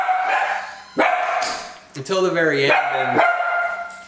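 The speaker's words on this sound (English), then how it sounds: "All right, all the dogs are going outside now." Several dogs bark and yip indoors in short, loud bursts, with someone speaking briefly between them.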